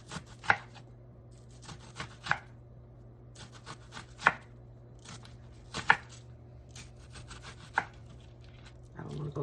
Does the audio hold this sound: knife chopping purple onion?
yes